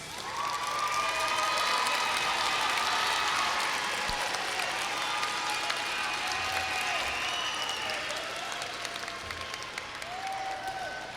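Sustained applause and light cheering from a large crowd at a high school graduation ceremony, broad and steady with occasional higher shouts rising above the clapping, no speech over it.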